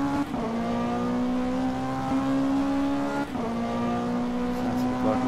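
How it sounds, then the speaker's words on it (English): Ferrari GT3 race car at Bathurst in a racing video game, engine droning steadily under load with sustained harmonic tone and two brief gear-shift dips, loud and close with no talking. "Beautiful classic Ferrari noises."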